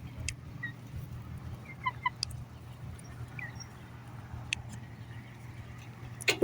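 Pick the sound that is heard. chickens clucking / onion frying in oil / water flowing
chickens clucking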